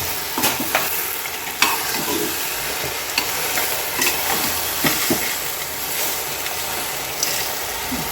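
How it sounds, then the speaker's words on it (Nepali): Karkolo curry fries in a pan, a constant close sizzle broken by repeated sharp clinks and scrapes of a spoon stirring at an irregular rhythm. "मजाले चलाउनुहोस्"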